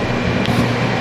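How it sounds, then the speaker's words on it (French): Air conditioner running on a hot day indoors, a steady low droning hum with a faint whirr, continuous and fairly loud with no talk over it. "Désolée pour le son d'air clim"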